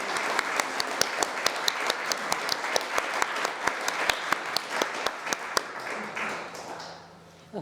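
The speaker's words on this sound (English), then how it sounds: "let's give them a round of applause." Audience at a League of Women Voters annual meeting in Ames, Story County applauds award recipients: steady, fairly close clapping with sharp individual claps on top, fading out near the end.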